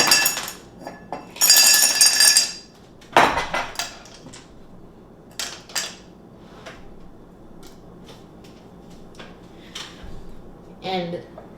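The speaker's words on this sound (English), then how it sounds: "now we put our serving glass and put about a cup of frozen chunky water" Frozen water chunks dropped into a serving glass while making Hong Kong milk tea, a burst of bright clinks followed by scattered lighter taps and rattles, with a person speaking nearby.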